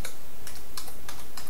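Typing on a computer keyboard, close and crisp, with quick irregular clusters of key clicks across a second and a half and no talk.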